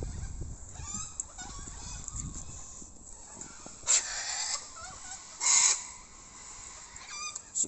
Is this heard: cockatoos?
yes